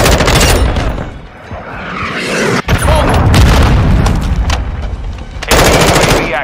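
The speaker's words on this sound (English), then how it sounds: "Hostiles launched a cruise missile." A cruise missile strikes in Modern Warfare II Kill Confirmed, with heavy booming blasts layered over rapid machine-gun fire, loud and sustained, with a brief drop in the middle before the barrage resumes.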